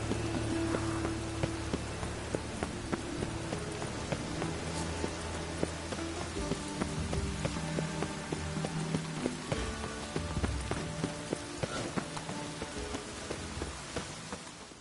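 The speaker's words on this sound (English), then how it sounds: "Must be mad running around in this rain." Steady rain falls in the video game The Witcher 3: Wild Hunt, a soft, constant patter mixed with game ambience, faint footsteps and occasional clip-clop, with no speech in this stretch.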